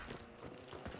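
Horse hooves clip-clop in a steady walking rhythm through a hunting video game, close and moderately loud with a few clustered hoof strikes over a continuous background.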